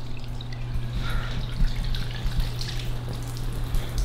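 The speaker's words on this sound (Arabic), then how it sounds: "المي وقع، ما اعرف ليش نزل منها." Water leaks and drips from a dishwasher running for the first time, a steady patter of drops and trickling over a constant low appliance hum.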